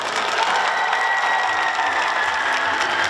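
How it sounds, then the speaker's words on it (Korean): A packed audience applauds to close the Broker open talk at the Busan International Film Festival, dense continuous clapping held at a loud, even level throughout. "저희 브로커의 팀들과 함께 박수 치면서 이 자리 마감하도록 하겠습니다"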